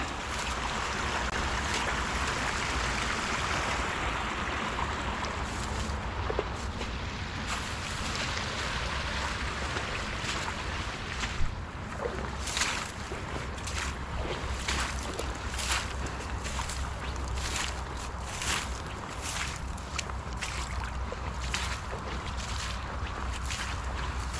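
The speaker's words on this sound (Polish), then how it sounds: "Woda sobie przepływa pod ziemią." Water runs steadily beside a beaver dam on the Biała, flowing underground, with a continuous rushing wash and scattered splashes and trickles nearby. No one speaks.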